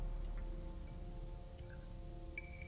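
Steady rainfall in the video game Gothic, a soft continuous patter with a faint low hum beneath and no voices.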